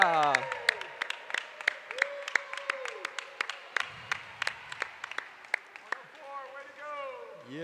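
Spectators at a 24-hour swimathon clap sharply and rhythmically for a swimmer. Whoops and cheering voices are mixed in, and a few people talk over the claps.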